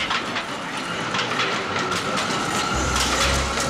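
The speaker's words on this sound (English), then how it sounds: "Train now leaving for Madison Avenue," Animated cartoon train pulling out of the station, with a steady rolling clatter of wheels on rails and a low engine rumble that swells near the end, continuous and close throughout.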